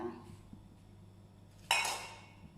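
A metal lid lifted off a pot of cooked Arabic rice on a gas stove, a single bright clink and clatter of cookware standing out against a quiet kitchen background.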